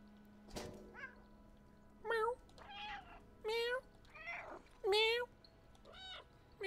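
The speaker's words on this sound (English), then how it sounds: "I'm talking to a virtual cat." Several clear meows from a virtual cat in the video game Stray, a series of short tonal calls spaced about a second apart after a sharp thump, close and prominent against a quiet background.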